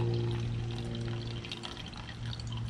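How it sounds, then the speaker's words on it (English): Water pours steadily into a lidded container during a microplastics sampling setup, a continuous trickling wash over a low steady hum with no talk. "So we're gonna pour a little bit of water in here."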